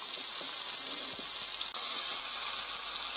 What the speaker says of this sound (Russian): Обжариваем просто все.